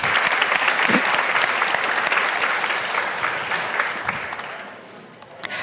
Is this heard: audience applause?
yes